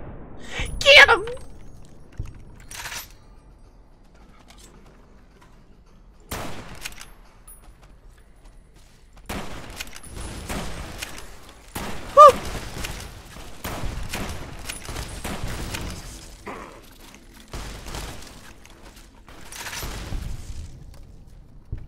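Gunfire in the Fallout: New Vegas video game, a scattered series of sharp shots and bursts spread across the stretch, some loud and close, mixed with quieter game effects and occasional voices.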